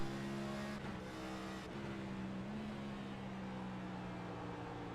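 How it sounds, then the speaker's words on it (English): A Next Gen Cup race car's engine drones steadily around Phoenix Raceway in iRacing, its pitch dropping with a couple of quick shifts down to third gear, under a continuous mechanical hum. "See Ian Miller downshifting to third gear"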